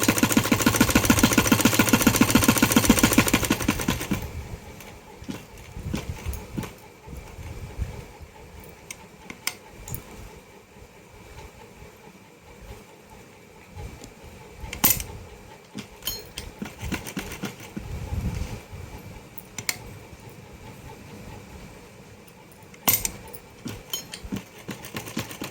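An electric sewing machine stitching a pocket onto a salwar runs in a steady, dense whir for about four seconds, then stops, leaving faint scattered clicks and fabric handling.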